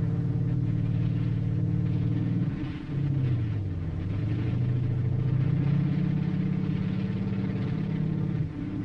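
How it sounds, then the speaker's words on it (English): A bulldozer's engine rumbles low and steadily up close as it smothers an enemy dugout in Korea, its pitch sagging and rising as the machine labors, with no voices over it. "A bulldozer smothers a red dugout."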